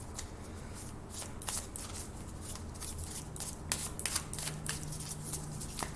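A brand-new deck of crisp, stiff playing cards is shuffled close by in quick riffling bursts, with snapping flicks and rubbing between them.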